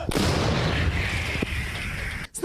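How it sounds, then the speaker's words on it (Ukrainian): A single loud artillery gun boom at the start on a front line near Avdiivka, followed by a long rolling rumble and shell hiss that slowly fades, then a sharp cutoff near the end. "Хлопці швидко її перезаряджають і працюють по подавленню ворожої артилерії."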